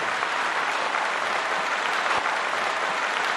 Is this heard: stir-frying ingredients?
no